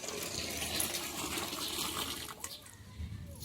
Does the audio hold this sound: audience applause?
no